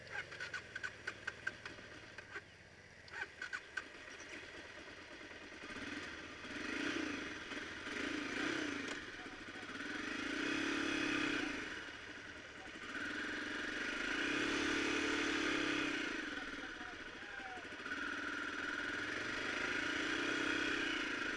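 An Aprilia motorcycle engine runs on a Scotland tour, with a few sharp clattering bursts at the start and then repeated swelling hums as the revs rise and fall, fairly faint overall.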